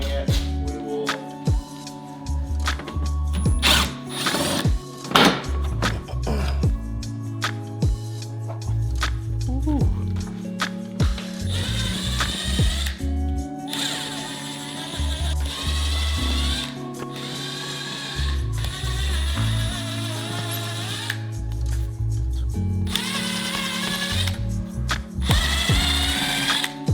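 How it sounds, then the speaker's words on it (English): A power drill bores into a wall in a red barn being converted into a workspace, to mount a laser level; whirring bursts and mechanical ratcheting recur over background music, loud and close, with people talking in between. "We'll tape this up and then we'll start drilling."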